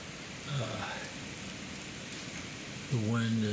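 Heavy rain during a storm with gutters and drains flowing, a steady hissing downpour with a voice speaking briefly at two points.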